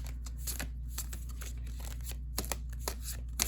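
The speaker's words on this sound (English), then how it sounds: "let me shuffle it this way for you too" A large deck of cards being shuffled by hand, a quiet run of soft riffling and flicking sounds over steady low background hum.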